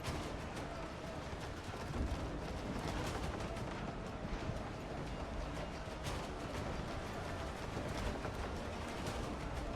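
Ship cannon fire during a naval battle in the WindRose video game: a dense, continuous roar of distant booms and crackling shots, steady in level throughout, with no distinct voices.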